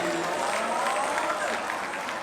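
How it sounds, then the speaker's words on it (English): Audience clapping at a GBfoods product launch event in Nigeria, a steady, dense wash of applause lasting the whole short stretch, with some crowd noise mixed in. "Clap for him."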